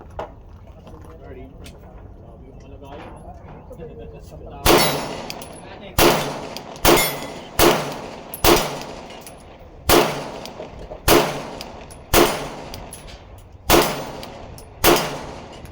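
A Glock 19X pistol is fired about eleven times after a quiet start. Each shot is a sharp, loud crack, spaced at an irregular pace of roughly one per second, with short decays between them.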